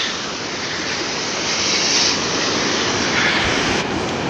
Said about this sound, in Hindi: ये देखो पानी की धारा बहुत ज़ोर से ऊपर से बहते हुए आ रही है, एकदम ऊपर से हिमालय से।